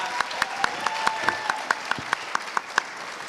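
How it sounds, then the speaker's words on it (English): Applause for pitch contest finalists, with sharp individual claps at an even rhythm standing out over a steady wash of clapping, close and fairly loud with no talking. "Can we give them all a round of applause?"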